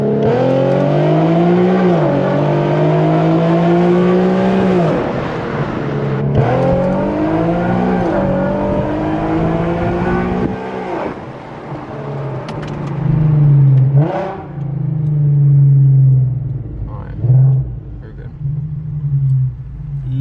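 A tuned Infiniti Q50 engine revs hard in repeated rising sweeps, loud and close, with exhaust pops crackling between throttle blips and an idle rumble settling toward the end.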